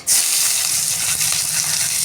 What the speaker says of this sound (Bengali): দিয়ে দেবো পেঁয়াজ